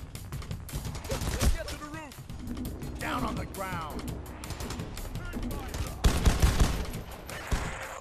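Rapid gunfire in the heist shooter PAYDAY The Heist, with dense bursts of shots and clanking weapon noise running throughout and a louder volley near the end, mixed with voices talking over the action.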